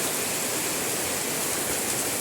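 Heavy rain pours steadily near a rooftop pigeon house, a dense, continuous hiss without breaks and no voices.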